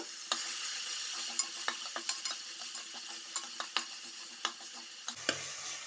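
Tomato frying in a hot pan for a country chicken curry, steady sizzle under repeated sharp scrapes and taps of a spoon stirring, close and fairly loud, ending abruptly.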